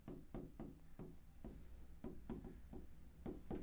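Notes written in Hindi with a pen make quiet, scratchy strokes in a quick uneven rhythm, each short scrape following the last closely, heard alone with no talk.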